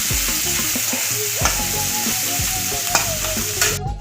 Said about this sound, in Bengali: পেঁয়াজটা দিয়ে আমি খুব ভালো করে ভেজে নেব।